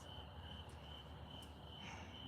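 Steady, high-pitched cricket chirping fills the night air continuously, with no voices.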